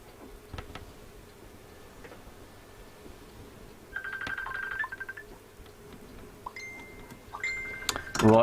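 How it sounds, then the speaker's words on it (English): A telephone rings in a workshop during a live tube-tester repair session, with short electronic ring bursts in the middle and again near the end over a quiet background with faint clicks. "Who's that ringing me?"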